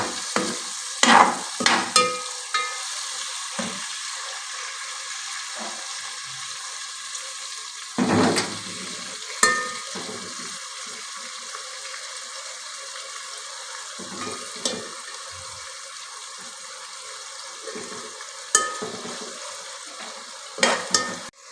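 Ingredients for takka macaroni fry in a pan as they turn white. A low sizzle runs throughout, broken by intermittent clanks and scrapes of a spoon stirring against the pan.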